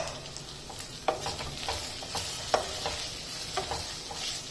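Garlic cloves frying in a pan for a Tamil Nadu–style vegetable biryani, a steady low sizzle with a few sharp clinks of a spoon stirring against the pan, close and fairly quiet, no talking.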